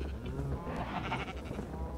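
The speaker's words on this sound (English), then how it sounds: "there are a lot of sheep here now, a lot more than there were last time" Sheep in the video game Minecraft bleat faintly, a couple of short nasal calls rising over a low background hum.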